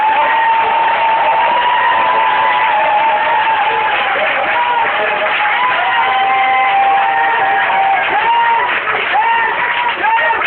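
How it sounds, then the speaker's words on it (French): A church congregation at a village gathering cheers and shouts in acclamation, a dense, continuous roar of many voices with singing and calls mixed in throughout. "Acclame Jésus, s'il te plaît."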